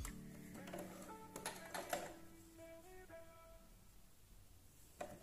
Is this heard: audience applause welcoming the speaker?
no